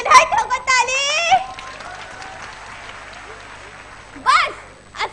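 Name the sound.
audience applause at school drama competition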